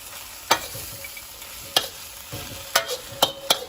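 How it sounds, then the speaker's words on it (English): Cashew chicken frying in a pan gives a low continuous sizzle, broken by a handful of sharp, close spatula scrapes and knocks spaced unevenly across a few seconds. "I'm gonna give it a stir one last time."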